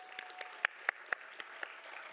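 Scattered claps from a small audience at a sustainability summit awards session, a handful of distinct sharp hand claps spaced irregularly over a quiet room, fairly faint and sparse.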